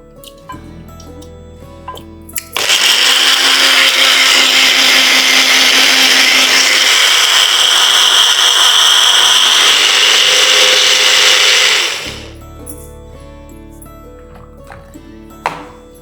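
Mixer grinder blending boiled tomato, pepper, cumin, cinnamon and clove, a loud, continuous high whir lasting about nine seconds, with clicks and a short clatter before it starts and after it stops.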